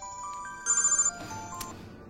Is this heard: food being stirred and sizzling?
no